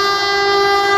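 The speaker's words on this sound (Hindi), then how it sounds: "SBU-20 लोकोमोटिव के साथ कोई फास्ट पास हो रही है गुजर खान रेलवे स्टेशन से" A fast train hauled by an SBU-20 locomotive passes a railway station in Pakistan, sounding a loud, steady, sustained horn very close by, with no talking.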